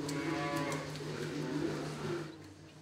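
Young calves on an organic dairy farm with a herd of 280 cows moo in a long, drawn-out low call that carries steadily for a couple of seconds before fading, fairly close, with faint farm background.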